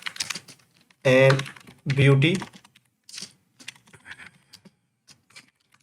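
Keys clack on a computer keyboard as a blog title is typed, short bursts of tapping mixed in with someone speaking Hindi nearby.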